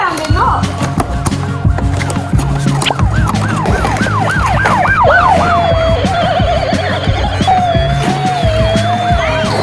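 Toy emergency vehicles from a fire truck, police car and ambulance rescue station playset sound electronic sirens, with warbling and wailing tones cycling loudly and close alongside busy clicking and rattling of the toys.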